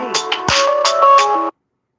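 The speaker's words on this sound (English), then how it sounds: "That was a corporate call that I just got, as a matter of fact." A mobile phone rings with an incoming corporate call, a short bright electronic ringtone of stacked steady tones with a few rhythmic accents, close and clear, cutting off abruptly after about a second and a half into silence.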